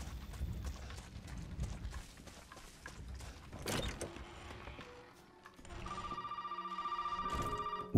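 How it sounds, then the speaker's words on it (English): A phone rings in the survival horror game Resident Evil 7 at dusk outdoors, a steady electronic ringing tone that starts partway through and repeats in pulses after scattered footsteps and ambient game noise. "Would you look at that? Another phone call."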